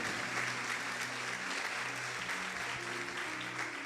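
A church congregation applauds during a Tuesday miracle service, a dense, continuous wash of clapping that holds evenly for several seconds.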